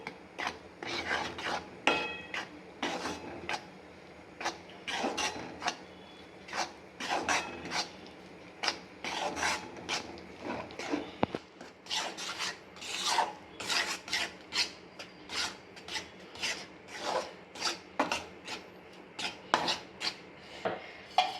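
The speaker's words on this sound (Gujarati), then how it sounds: "ઘી ગરમ થઈ ગયું છે તો આપણે લોટ નાખી દઈશું અંદર આને હવે આપણે શેકી લઈશું" Repeated scraping and rasping strokes of a spoon or spatula against a pan as flour roasts in ghee, steady and close, continuing with no voices.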